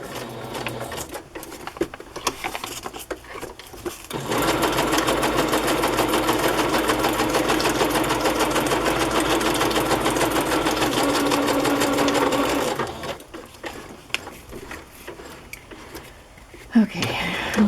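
Sewing machine stitching across a paper pocket on a rustic junk journal: a steady, loud mechanical whir for about eight seconds, with quieter rattles and handling noises before and after.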